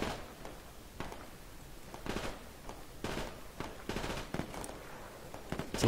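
Gunfire in the Project Reality military shooter game, with repeated sharp bursts and scattered shots spread across the moment at moderate loudness, some closer and some farther.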